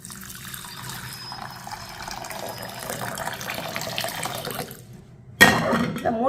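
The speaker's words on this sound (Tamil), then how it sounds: "இப்போ நல்ல தண்ணி ஊற்றிக்கிடுவோம்." Fresh water poured over soaked moong dal in a bowl, a steady running, splashing flow that grows slightly louder, then a brief pause before a sharper, louder splash near the end; no talking.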